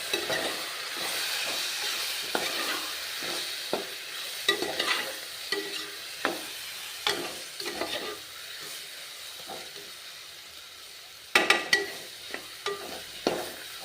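Dry coconut powder frying in a pan for vangi bath, a soft steady sizzle broken by repeated sharp stirring scrapes and clacks of the spatula, close up, with a quick cluster of strokes near the end.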